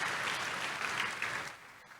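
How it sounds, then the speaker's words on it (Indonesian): Church congregation applauding during a worship service, a dense, steady wash of clapping that fades slightly toward the end. "Kasih tepuk tangan yang meriah untuk Tuhan Yesus."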